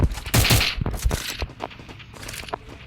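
Gunfire in a fight in the video game Free Fire: a loud cluster of rapid shots up front, followed by scattered, quieter bursts and footstep-like thuds, with no talk.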